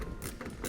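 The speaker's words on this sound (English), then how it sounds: "tighten our clamp on down" A clamp is tightened down onto a tonneau cover rail, making a quick run of faint, close ratcheting clicks that lasts under a second.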